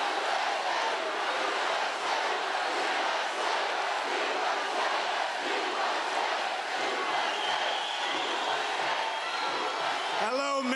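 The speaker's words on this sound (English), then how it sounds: "Wow, that's some crowd." A large, loud crowd at a Trump rally in Michigan roars and cheers continuously, a dense wash of voices with shouts rising through it, and a short whooping sound near the end.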